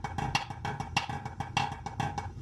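A snare drum plays buzz rolls in a 3-note grid polyrhythm with shifting accents, dense rolled strokes pulsing in a steady, accented pattern, close and moderately loud, no talk.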